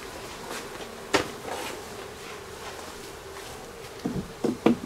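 Bees in a mini beehive give a faint, steady insect hum. Several sharp knocks and taps cut in, one near the start and a cluster toward the end, with no talking.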